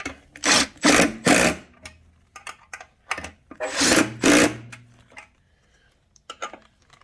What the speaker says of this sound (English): Then I'm going to get my impact driver. Same thing here, tighten it down.